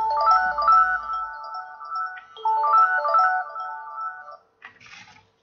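A phone ringtone plays a repeating melodic phrase in two bursts, loud and close, then stops as the call is picked up, with a brief rustle at the end.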